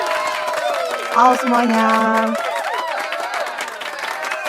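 An audience claps to welcome a guest on a school children's podcast, with steady applause running under a voice speaking and a tonal melody.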